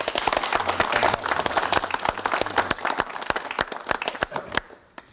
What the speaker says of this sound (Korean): 여러분 박수로 환영해 주시면 대단히 고맙겠습니다.